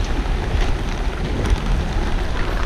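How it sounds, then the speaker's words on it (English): Rain falls on a sailboat during a Caribbean squall, a dense continuous hiss of drops mixed with wind and water noise, steady and close throughout. "Another bout of rain coming."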